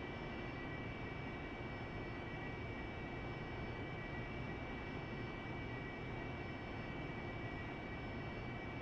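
Steady drone of an aircraft engine in the DCS World flight simulator, running continuously with a constant broadband roar and faint high whine throughout, no voices.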